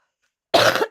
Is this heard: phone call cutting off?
no